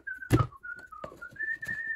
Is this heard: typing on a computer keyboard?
no